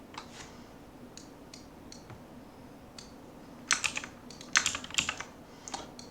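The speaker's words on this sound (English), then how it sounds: "actually I'll just type them all out first" Typing on a computer keyboard in a quiet room: scattered single key clicks at first, then faster, louder bursts of keystrokes, close by and with no voices.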